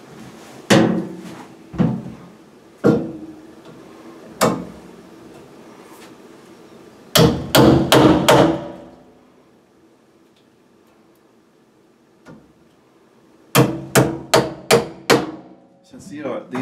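Hammer blows driving nails through half-open plastic mounting brackets during a Delta shower faucet install, in scattered sharp knocks and quick bursts of three to five close, loud strikes with quiet gaps between.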